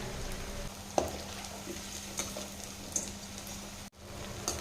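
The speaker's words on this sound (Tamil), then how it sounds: "இந்த எண்ணெயோட சலசலப்பெல்லாம் குறைஞ்சிட்டு நல்லா வெந்துடுச்சு" Potato balls fry in hot oil, giving a steady close hiss and crackle with a few small pops, continuous through the clip.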